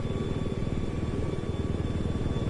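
Scout helicopter in Battlefield 4 diving, a loud steady rotor chop with rapid regular beating and a constant high whine underneath, close and sustained throughout with no talk.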